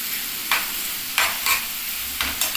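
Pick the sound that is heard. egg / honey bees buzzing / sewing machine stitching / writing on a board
egg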